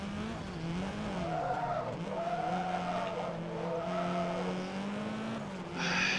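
Tires skid and squeal as a car drifts in the racing video game Forza Motorsport 2, with a sustained, wavering screech over a humming engine and no talking.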